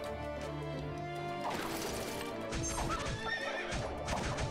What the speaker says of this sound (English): Oh, the horses. That's going to be problematic.